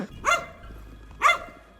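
A dog barks twice at night outdoors in a housing estate, two short sharp barks about a second apart, moderately distant over a low background rumble.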